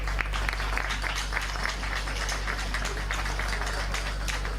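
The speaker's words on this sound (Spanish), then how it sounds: "Un aplauso." Audience applause at the inauguration ceremony of an agri-food fair in Jaraíz, a steady dense wash of clapping from a crowd filling the room, sustained evenly throughout with no voices on top.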